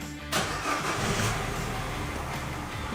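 A car engine cranks and catches after repairs that cleared fault codes from its main control units, then settles into a steady close idle with no talk over it.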